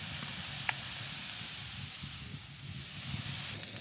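Chopped onion, garlic and green chilies fry in a pan with a steady, soft, even sizzle that runs throughout, broken by an occasional faint tick.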